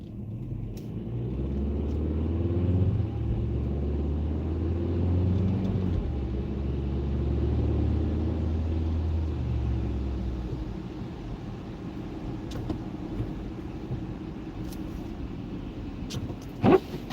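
A car drives slowly along a road in a snowstorm at about 23 mph, its engine and tyres giving a steady low rumble from inside the cabin, with a couple of faint clicks near the end.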